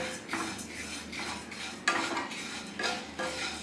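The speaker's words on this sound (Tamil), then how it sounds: "மீடியம் ஃப்ளேமில் வச்சு தான் நான் இதை வறுக்கிறேன்." Flattened rice (aval) stirred and roasted in a pan over a medium flame, with a spoon scraping the pan in repeated short strokes, a soft rustling texture and a few sharper swishes.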